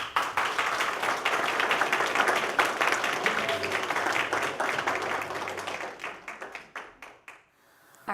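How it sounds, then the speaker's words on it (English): An audience applauds a speaker, Sean Burke, with dense, steady clapping that holds for several seconds, then thins out and fades to near silence at the end. "One more round of applause for Sean Burke"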